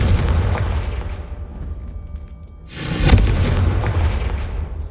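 Bombarda and Confringo spell blasts in Hogwarts Legacy boom heavily, with a rumbling blast at the start, a short lull, and a second loud burst that rolls on into a long roar.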